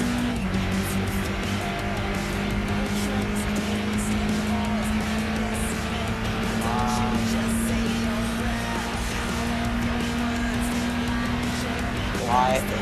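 A car engine drones steadily in Gran Turismo 5 during a license test, holding a constant hum with slight pitch shifts and a faint tire squeal near the end, with a voice talking over it at times.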